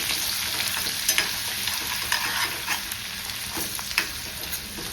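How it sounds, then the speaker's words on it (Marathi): Garlic, ginger and coriander stems fry in hot oil for Schezwan chutney. A close, continuous crackling sizzle carries on throughout, with occasional light scrapes and clicks from stirring. "लसूण घातले, आता आलें घालता. आणि ते कोरिएंडराचे स्टेम घालता. आणि अशे तरेन बरे तळसून घेता."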